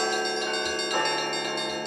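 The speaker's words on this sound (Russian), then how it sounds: "привезли с собой звон, посвященный Александру Невскому" A church bell rings steadily at a bell-ringing festival in Tatarstan, with a rich, sustained metallic tone, its overtones hanging in the air throughout, close and fairly loud with no voices.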